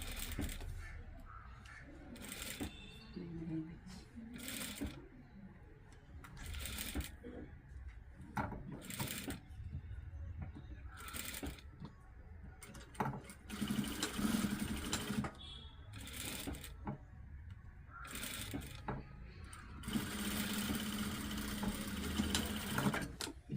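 A sewing machine stitching a party frock in a tailoring shop, running in repeated short bursts of rapid needle chatter separated by pauses, with a person talking quietly in the gaps.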